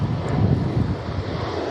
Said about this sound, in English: Further Jet 2 traffic just on the takeoff.